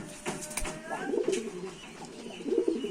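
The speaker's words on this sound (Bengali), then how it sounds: "খুব তেজি পায়রা" Lively Giribaz pigeons coo in soft rolling bursts close by, with fluttering and rustling in between and no talk.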